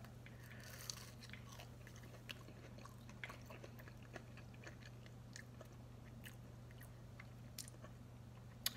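Fried tofu being chewed close up, a steady run of soft crunchy bites and mouth sounds over a constant low hum, with no talking.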